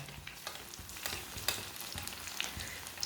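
Egg patties frying in a small amount of oil in a pan, a steady close sizzle and crackle with scattered pops, no voices.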